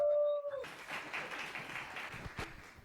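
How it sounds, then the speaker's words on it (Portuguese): An audience claps for Leila Vilhena at a live event, applause starting after a short tone and continuing as a moderate, fairly distant patter that gradually fades. "Uma salva de palmas pra Leila."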